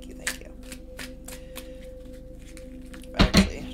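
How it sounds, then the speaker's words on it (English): A deck of tarot cards is shuffled by hand in a quiet room, with soft, scattered riffling taps that end in a couple of louder snaps. "I actually just shuffled the crap out of this,"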